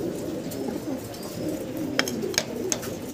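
Pigeons of a top-quality breed kept for sale coo softly and continuously, a low steady murmur under faint background noise with a few brief higher chirps near the end.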